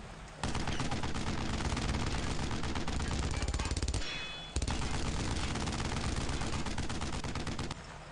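An MG-42 machine gun in the video game Brothers in Arms: Road to Hill 30 fires long, dense, loud bursts of rapid shots, with a brief pause midway before the firing resumes.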